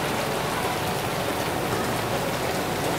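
Steady rain falls close by, a dense continuous hiss of drops that stays even in loudness throughout, with no voices.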